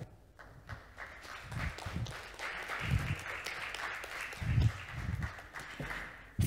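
Steady audience applause at a GLOBSEC 2024 conference session as the moderator is welcomed, a dense, moderately distant clapping that swells and holds for several seconds.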